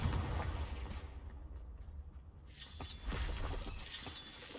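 Confringo fire spell going off in the Hogwarts Legacy video game, a sharp shattering blast followed by a crackling, rumbling burst and a second loud impact a moment later.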